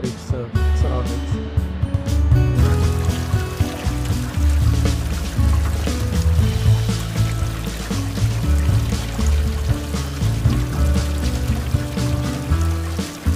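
Water pours and trickles steadily from a scenic waterfall into a pond at a Dubai restaurant, a continuous splashing wash with low rumble, heard close and fairly loud throughout.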